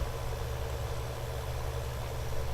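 Tractor engine in Farming Simulator 2019 running at a slow, steady pace, a continuous low droning hum with no breaks or talk.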